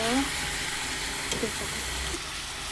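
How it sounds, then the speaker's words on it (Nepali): Meat fries in a pan with a soft, steady sizzle, with a few brief clinks and stirring sounds, faint throughout. "अब मासु यतिको फ्राई हुँदैछ।"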